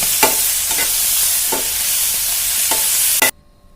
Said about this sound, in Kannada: ಹುರಿಯಾತಲ್ಲಿ ಪಾಲಕ್ಕೆಲ್ಲ ಹೆಂಗೆ ಮೆತ್ತಗಾಗಕತ್ತೈತಿ